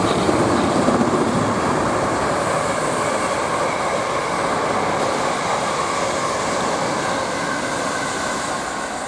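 A South Western Railway Class 450 eight-car electric train departing a station, a steady loud rumble and rolling wheel noise holding evenly throughout, with no talk over it.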